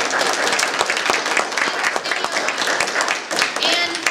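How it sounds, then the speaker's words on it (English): An audience at a political talk event gives a round of applause. Many hands clap in a lively, slightly uneven rush with sharp individual claps standing out, and it stays close and sustained. "how about a round of applause for the people who at the back"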